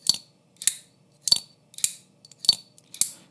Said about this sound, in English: It's one of the best sounding knives I've ever handled.